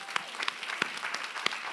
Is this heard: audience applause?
yes